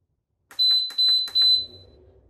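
Nesco smart canner control panel giving three short, bright electronic beeps in quick succession as buttons are pressed, followed by a faint low hum.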